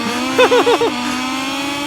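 Several video game racing motorcycle engines from MotoGP 22 whine past in quick succession, high buzzy revs rising and falling like small motorbikes or mopeds, loud and close over a steady drone.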